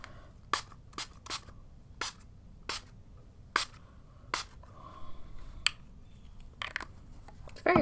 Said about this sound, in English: Very harsh sprayer.